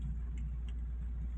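A car engine runs low and steady during a driving lesson on the road, a soft continuous rumble with no other clear sounds.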